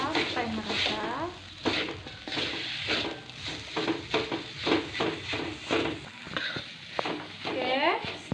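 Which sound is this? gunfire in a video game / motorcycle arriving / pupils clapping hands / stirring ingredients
stirring ingredients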